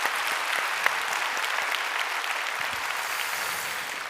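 A church congregation on Easter Sunday applauds after a cantata with orchestra and choir, a steady, even patter of many hands clapping at moderate volume throughout, no talking over it.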